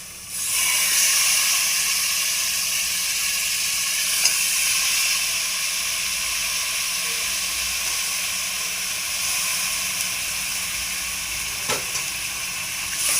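Half a kilo of washed chicken sizzling in a hot pan for chicken biryani, giving a loud, steady, close hiss that runs unbroken throughout, with a couple of faint clicks.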